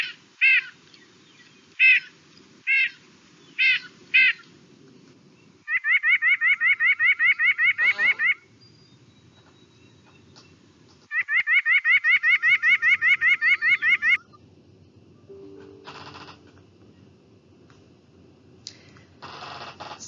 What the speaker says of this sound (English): So that was the call of the white-breasted nuthatch.